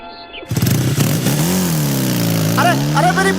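A motorbike starts abruptly and revs loudly nearby, its engine pitch rising then sagging as it pulls away, with excited voices breaking in over it, in a scene from a South Indian comedy action film.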